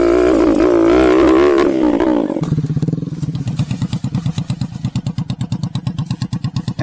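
A motorcycle engine, used by an ojek rider on a risky wild street race, opens with a high revving whine, then drops into a loud, close, rapid pulsing idle with fast rhythmic throbs.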